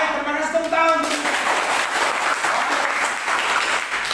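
Classroom applause in a teacher training lesson, a brief burst of group clapping following a voice at the start, filling the rest of the moment fairly loudly.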